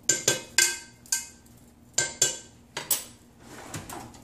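A metal spoon clinks and scrapes against a dish while stirring shrimp with olive oil, a series of sharp bright taps in uneven bursts followed by softer scraping, close and clear with no voices.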